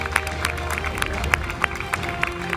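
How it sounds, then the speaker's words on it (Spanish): Studio audience applauding loudly on a televised game show, a dense wash of clapping with sharp accents scattered throughout. "¡Fuerte el aplauso, señoras y señores!"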